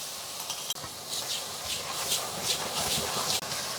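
Pork shreds stir-fried with sauce in a wok over high heat, a steady bright sizzle with faint scraping and stirring throughout, no one speaking.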